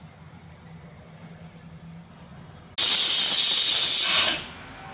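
A pressure cooker cooking brown rice pongal on a stove lets out a sudden loud, steady rush of hissing steam that holds for about a second and a half, then drops back to a quieter background.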